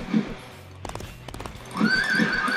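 A horse neighs in the Disney Infinity Lone Ranger playset, a close, clear whinny with clip-clopping hooves and game sounds around it, no talk over it.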